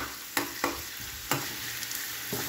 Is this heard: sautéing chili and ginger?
yes